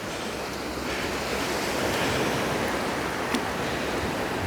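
Ocean surf washes steadily onto a wet-sand beach on a freezing day, a continuous broadband rush of breaking waves with some wind buffeting the microphone and no pauses.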